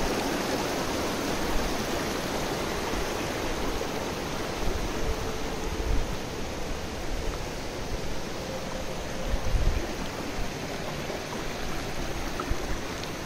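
A Himalayan mountain stream on the Satopanth trek near Badrinath rushes down between large rocks, producing a broad, steady roar of flowing water that stays constant and close.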